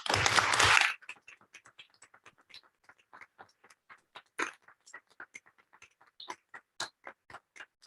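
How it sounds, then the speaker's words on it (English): Audience applause for retiring school staff at a special school board meeting in Darien begins with a loud burst of clapping, then thins into scattered individual claps that continue sparsely and fade, close and uneven in rhythm. "Please join me in a warm round of applause and appreciation of our retirees' dedication to Darien Public Schools"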